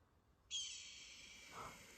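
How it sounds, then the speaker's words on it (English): A video game eagle call effect in a Wild West setting: a sudden bright, sustained high-pitched cry that holds steady for about a second and a half over a quiet background, without talk. "The eagle sound effect."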